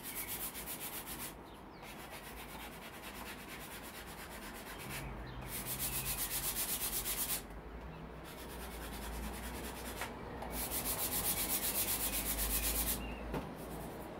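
Steady back-and-forth rasp of sandpaper rubbing on a wooden cigar box guitar neck, in repeated strokes with brief pauses, close and fairly quiet.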